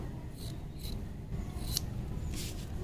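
Scissors snip through fabric while handmade fabric earrings are made, a few short crisp cuts at roughly 0.4, 0.9, 1.8 and 2.4 seconds over a steady low background hum, close and fairly quiet.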